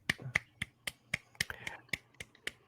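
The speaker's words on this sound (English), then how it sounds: "Let's get a hand clap for Jimbo." About ten sharp, separate hand claps in an uneven rhythm, close and fairly quiet, with a faint murmur of voices between some of them.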